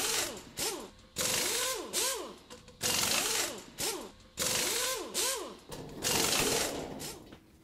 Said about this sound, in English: remove all the screws that hold the back panel on with a 1/4 inch nut driver